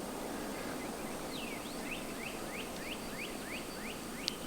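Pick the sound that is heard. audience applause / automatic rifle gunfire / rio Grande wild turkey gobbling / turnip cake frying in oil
rio Grande wild turkey gobbling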